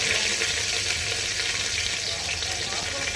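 Curry leaves sizzling in hot tempering oil with cumin and mustard seeds for a jeera saaru, a steady, loud, close crackling hiss that runs without a break.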